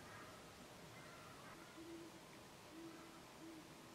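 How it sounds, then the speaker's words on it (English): An owl hoots faintly from the woods at sunset beside a snow-covered prairie, with a few soft, distant calls spaced out over a quiet background. "Hoot owl back in the woods."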